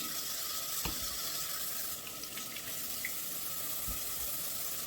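Vegetables being rinsed under a running kitchen tap, a steady close stream of water into the sink with a couple of soft knocks and handling clicks, no talking.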